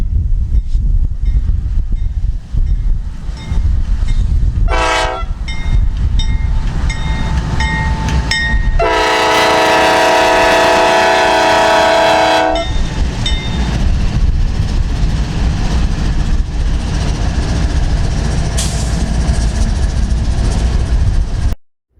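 CSX freight train led by a GE Dash 8 locomotive rolls past loud and close, with a rumbling diesel drone, blaring horn blasts and clattering wagons, plus wind buffeting the microphone.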